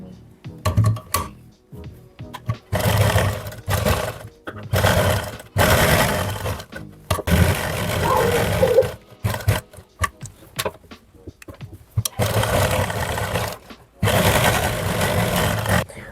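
A sewing machine stitches along buckram on a sweetheart neckline in loud bursts of rapid mechanical whirring, each run lasting one to two seconds and separated by short pauses.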